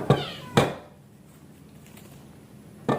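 A cat gives a few short, sharp meows, two close together and then another after a pause, against a quiet room.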